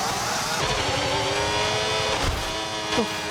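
An F1 car in the F1 26 video game loses control, its engine droning steadily with brief surges and a short squeal near the end.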